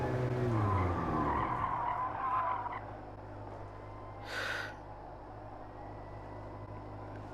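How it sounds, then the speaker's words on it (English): An Alfa Romeo 4C Gr.3 road car in GT Sport skids under hard braking in a 100 to 0 brake test, a loud descending tire squeal over engine noise that fades into a quieter idle with a brief burst of hiss. "100 to 0 brake test."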